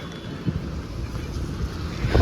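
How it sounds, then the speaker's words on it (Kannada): Strong wind rushes and buffets steadily, a low rumbling roar with gusty swells throughout and no voices. "ಮಳೆ ಬಿಟ್ಟರು ಗಾಳಿ ಜಾಸ್ತಿ ಆಗೈತೆ."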